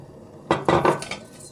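Dry rice poured into a pan of mashed cooked butternut squash for an autumn squash and chanterelle risotto, giving a short burst of grainy clattering hits against the pan.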